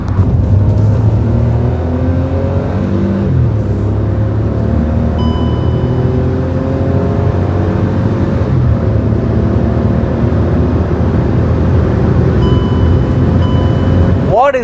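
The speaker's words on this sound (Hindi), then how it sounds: "Just downshift one gear. What a quick acceleration guys." Hyundai i20 N-Line hatchback with a DCT gearbox accelerating hard after a downshift, engine note climbing steadily and loud from inside the cabin, with someone talking over the sustained revving.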